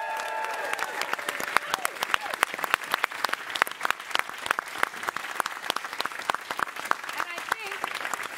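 An audience applauds during a live-streamed Dungeons & Dragons event, with sharp, crisp individual claps scattered over a continuous bed of crowd clapping.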